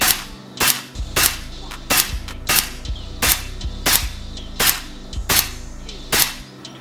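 An FX airgun with a .177 barrel firing slugs, about ten sharp cracking shots at a steady rhythm roughly every half second, loud and close with no talk.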